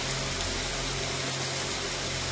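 Water being pumped and filled into a vehicle, a loud, constant rushing flow with a low steady hum underneath, continuous and close, no voices.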